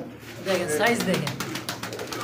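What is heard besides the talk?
large pigeons cooing in a cage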